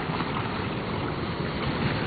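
Wind gusting across an outdoor microphone near a struggling fire, a constant rough low rumble and whoosh with no break and no speech.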